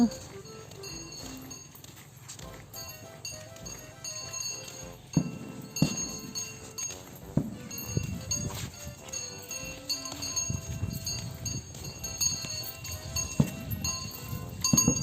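Several elephants walk home past houses near a canal, bells on them ringing in repeated metallic tones over the clopping, shuffling thud of their steps, with a voice speaking faintly at times.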